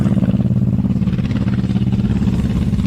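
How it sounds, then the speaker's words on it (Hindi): A motorcycle engine rumbles steadily and loudly close by with a low, throbbing beat and slight clatter, holding a constant level throughout without fading, and no one speaks. "धीरज अपनी मोटरसाइकिल पर बैठकर वहां से निकल गया था।"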